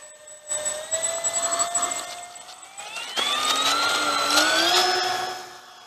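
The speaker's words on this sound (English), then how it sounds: "beautiful P-38. You shouldn't have any trouble with it. It flies like a glider." A P-38 model aircraft engine whines loudly and close, its pitch holding steady and then rising sharply as it revs up partway through, with no talk.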